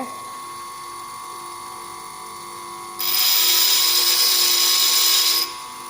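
A lathe cutting tool being shaped on a bench grinding stone, a loud harsh steady grind that starts abruptly over a motor whine, holds for a few seconds, then stops.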